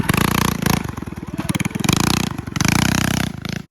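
A clapped-out mini bike engine revs hard and loud through a wheelie, its rough, sputtering roar rising and falling in pulses for a few seconds before cutting off abruptly.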